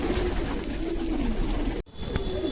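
Pigeons being fed millet coo steadily nearby, a continuous soft, low warbling chorus that cuts out briefly near the end before resuming.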